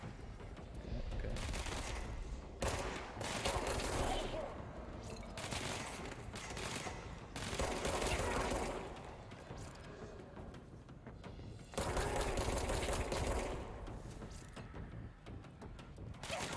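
Sustained bursts of rapid gunfire in the video game Control come in several long volleys separated by short pauses, loud and close, with no talk over them.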